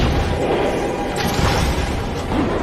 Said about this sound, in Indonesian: Tepat setelah pengakuan itu, sebuah ledakan mengguncang seluruh penjara.